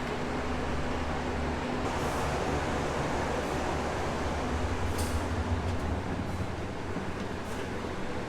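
Steady low rumble and broadband roar of an overnight sleeper train from Bangkok to Chiang Mai, Thailand, continuous and fairly loud throughout, with occasional faint higher clanks.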